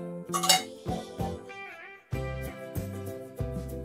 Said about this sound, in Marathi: बघताय आता या आपण एका डिश मध्ये काढून घेणार आहोत आणि याच्यामध्ये मीठ टाकणार आहोत